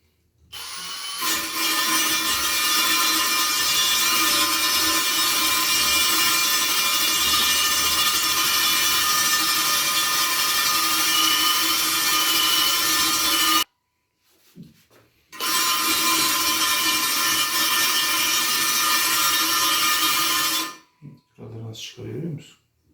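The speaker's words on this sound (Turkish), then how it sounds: "yine bir tane en son ince zımpara yapmak için kullanacağız bunu" Steady, continuous whirring of a power sander finely sanding a wheel rim, running alone for long stretches with two brief pauses.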